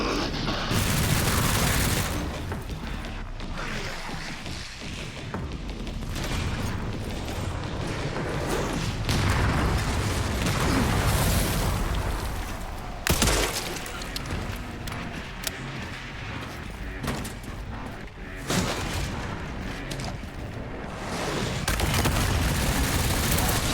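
Mortar fire and ongoing combat in Resident Evil 9 Requiem: dense, loud bursts of booms and gunfire run throughout, with several sharp blasts standing out amid a constant chaotic din.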